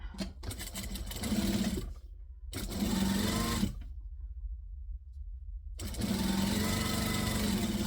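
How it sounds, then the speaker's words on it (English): A sewing machine runs chain stitching through fabric in loud, close bursts of rapid mechanical whirring, stopping twice with short silent gaps before starting up again; no one speaks. "back stitch at both ends to lock it in, and then we're going to chain stitch this second one"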